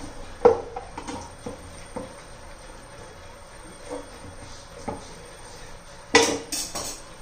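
Bitter gourd (karela) being chopped into small pieces on a board, a few sparse knife knocks spread out over a quiet kitchen background, with one sharper, louder clatter near the end.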